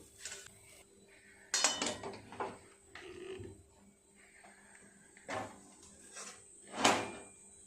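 Fish chop filling tipped out of a pan onto a metal plate: a few separate metallic clanks and scrapes spaced by quiet gaps, close by.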